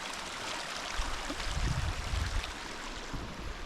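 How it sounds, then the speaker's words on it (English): Small creek running through a forested stretch of Great Basin National Park, a steady rushing babble of water, close and continuous, with no talking. "Amazing little creek running through here."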